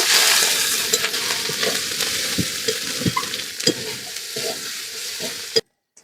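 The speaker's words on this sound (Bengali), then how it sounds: "পরিমাণ মতো লঙ্কা গুঁড়ো দিয়ে দিচ্ছি ভালো করে মশলাটাকে কষিয়ে নেব" Spice paste with turmeric and chili powder fries loudly in a pan, a dense close sizzle with intermittent spatula scrapes and stirs, cutting off abruptly at the end.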